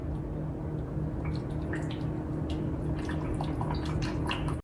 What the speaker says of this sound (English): Adding in balsamic vinegar, okay?